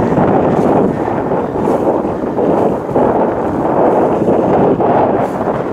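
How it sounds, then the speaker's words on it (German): Strong side wind buffets the microphone outdoors by a lake, a loud, steady broadband roar with gusty swells and no break across the whole stretch. "der Wind drückt von der Seite doch gerade ganz kräftig"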